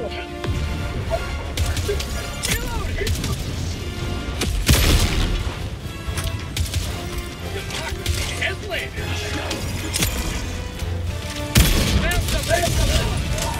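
Heavy cannon fire and explosions in Helldivers 2 against robots at maximum Helldive difficulty: repeated loud booms and blasts over a dense barrage of gunfire and battle noise, with excited voices talking throughout.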